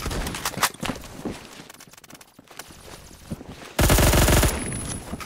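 Automatic fire from an M231 rifle in the video game Phantom Forces, with earlier scattered shots and clatter giving way to a loud, sustained burst of rapid gunfire near the end.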